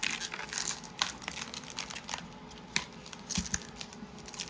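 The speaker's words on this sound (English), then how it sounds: "there is a protective film on here, so I'm going to go ahead and take that film off now" Protective film peeled off a panel of a 1/10 scale RC garage, heard as quiet crinkling and tearing with a few sharper crackles as the sheet lifts away, no voices.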